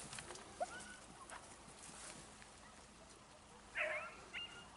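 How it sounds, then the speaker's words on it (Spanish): A beagle hunting a rabbit gives a couple of faint, distant yelps, one early and a louder one later, over quiet outdoor background noise. "Mira como ladra el Teddy."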